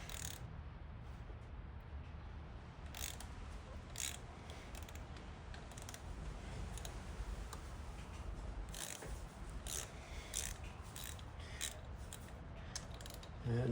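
Socket ratchet loosening the three cam cover bolts on a VW Mk7 Golf GTI with the EA888 Gen 3 engine, a faint run of quick clicking bursts repeating in short spells, close up over a quiet background.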